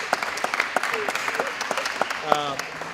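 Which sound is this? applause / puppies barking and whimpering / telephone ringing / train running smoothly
applause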